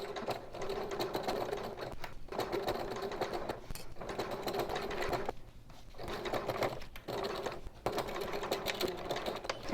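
A sewing machine stitches slowly across a zipper connector on a scrap of fabric, its steady mechanical whirring running in several bursts with short pauses between them, close and clear.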